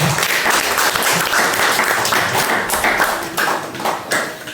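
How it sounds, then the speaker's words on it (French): Loud, close applause fills a church gathering as the congregation claps together in a dense, continuous burst that thins slightly toward the end. "Applaudissements pour le Seigneur."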